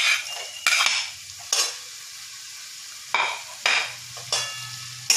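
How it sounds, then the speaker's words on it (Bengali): Fried soybeans for chilli soyabean are tossed in a pan, with several distinct bursts of sizzling scrape as the spatula stirs, separated by quieter low simmering gaps. "এবার এটা নাড়াচাড়া করে এর মধ্যে এই ভাজা সয়াবিনগুলো দিয়ে দিলাম।"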